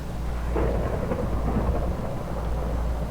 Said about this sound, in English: I hear thunder. And the thunder rolls.